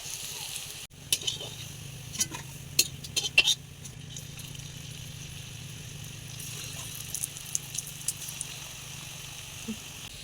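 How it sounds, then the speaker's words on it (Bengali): Pieces of pointed gourd prepared as a meatless fish substitute fry in hot oil in a kadai, a soft steady sizzle with scattered small crackles and pops, fairly faint and alone. "তেলটা গরম হয়ে যাওয়ার পর নিরামিষ এই মাছের পিসগুলোকে দিয়ে দিতে হবে আর মিডিয়াম আছে এটাকে ভাজতে হবে"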